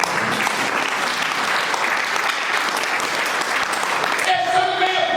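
A church congregation applauds, with dense, continuous clapping filling the room and a voice rising over it near the end.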